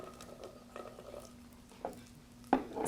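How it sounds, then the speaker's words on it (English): Onion sautés in butter in a pan with a steady soft sizzle, broken by occasional stirring scrapes and a louder clink of a utensil against the pan near the end. "And we're going to saute a little onion."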